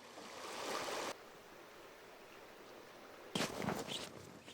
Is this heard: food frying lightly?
no